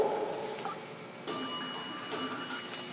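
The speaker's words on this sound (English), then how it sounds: "That will ring the bell and then walk the doors closed." A Dover hydraulic elevator in a parking garage rings its bell, a bright metallic ding sounding twice in quick succession over a quiet hum, with no voices.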